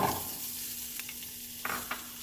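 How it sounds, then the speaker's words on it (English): Onion, tomatillo and unpeeled garlic cloves sautéing over medium heat, a soft continuous sizzle with a few light stirring clicks, close but gentle, no voices. "I'm just going to let this char and saute over a medium heat just until I see charring on the exterior of my fresh ingredients"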